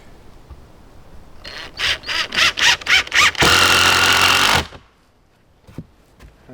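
A power drill driving a 3-inch deck screw during a hunting cabin build, with several short pulsing whirs followed by a sustained high-pitched whine as the screw seats, loud and close, then quiet.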